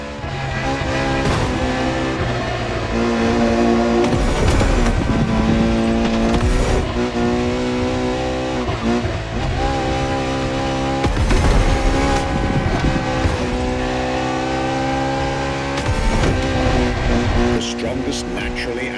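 The hybrid Ferrari V12 supercar in the Motorfest driving game, the strongest naturally aspirated V12 from the marque, revs loudly and steadily through rising and falling gear changes with tire noise, under a narrator's voice.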